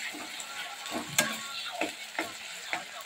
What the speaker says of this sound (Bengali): আদাটা একটু ভালো করে ভাজা হয়ে যাক।